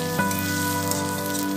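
Whole cumin, a bay leaf and machine-grated ginger-garlic frying in hot oil, a steady close sizzle with a faint crackle, no voices.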